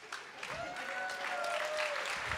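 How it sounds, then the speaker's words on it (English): Conference audience at a startup pitch competition claps along to a sing-along song, dense steady applause with a faint sung melody line running through it. "clap your hands."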